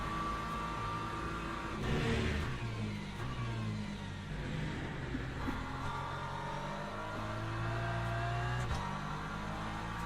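A BMW GT3 race car in the Le Mans Ultimate racing game at Silverstone National, its engine droning and revving steadily through gear changes, with other cars audible around it and no talking.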